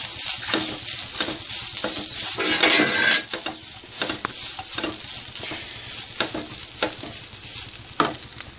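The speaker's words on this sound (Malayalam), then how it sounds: "തേങ്ങ നന്നായിട്ട് വറുത്തെടുക്കാം" Grated coconut fries in a pan for Kerala unnakkaya, hissing and sizzling continuously while a metal spoon stirs and scrapes it in quick, repeated strokes. The sound is close and loud, and no one talks.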